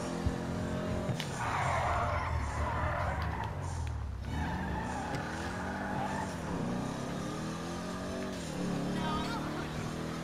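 A car in GTA 5 races at speed, its engine droning and rising and falling in pitch as it revs through gears, loud and continuous with a faint tire-skid hiss.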